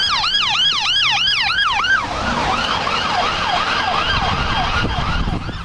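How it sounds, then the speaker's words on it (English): A fire truck's wailing siren cycles rapidly and loud at first, then drops lower and slower as the truck passes by, over road rumble. "Now that the truck has passed you, the sirens sound lower and slower."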